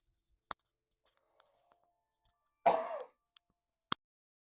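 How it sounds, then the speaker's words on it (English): A single short cough rings out close by in a quiet room, bracketed by a few faint scattered clicks and taps before and after it. "Actually, give me a second as I cough a little bit"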